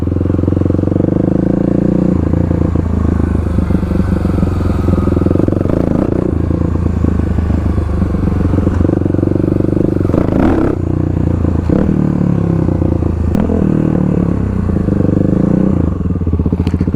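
A motorcycle rides across a parking lot and brakes hard in an emergency stop, with a steady close engine drone and some clattering and scraping.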